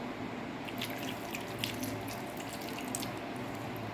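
Water poured into jaggery for adhirasam dough, a continuous splashing trickle close by, with a few brighter drips on top, before it stops abruptly.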